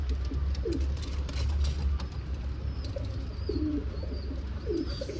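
Pigeons coo in low, throaty bursts, three or four calls spaced a second or two apart over a steady background hum, with faint chirps high above.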